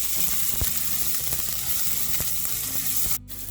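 Ginger garlic paste sizzles in a hot frying pan over whole spices such as cardamom, anise, cloves and cinnamon, a steady close crackle broken by a few sharp pops before a sudden drop near the end.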